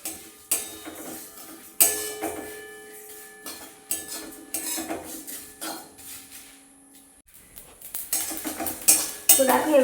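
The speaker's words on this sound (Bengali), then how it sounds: "আর কটা শুকনো লঙ্কা আর তেজপাতা দুটো। তো এগুলো একটু হালকা করে ভেজে নেব।" Dried red chillies and bay leaves are stirred in a pan, mostly as scraping and clinking from a spatula or spoon against the metal, with bursts of stirring and only a faint sizzle underneath.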